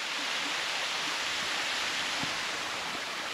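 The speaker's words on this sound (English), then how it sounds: "Cool creek." A creek flows near a partly frozen waterfall on a below-freezing day, a broad steady rush of water that stays constant and fairly close, with no voices over it.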